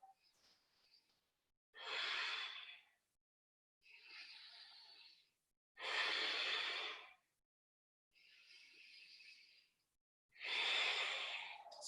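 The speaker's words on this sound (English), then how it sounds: "smooth the breath out" Slow, smooth breathing during a yoga practice, with six alternating inhales and exhales, each about a second long and separated by quiet pauses. The breaths are close and soft, with no talking.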